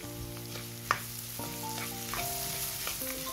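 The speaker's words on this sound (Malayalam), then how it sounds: "1 മിനിറ്റ് നേരം ഒന്ന് വഴറ്റി കൊടുക്കുക." Red capsicum pieces sautéing in a pan with peas for egg vegetable Maggi noodles: steady close sizzling and frying with occasional stirring scrapes and a light clink.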